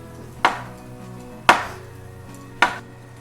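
A knife slicing portobello mushrooms into long, fine strips on a cutting board, three sharp, crisp chops spaced about a second apart, close and clear with quiet between strokes.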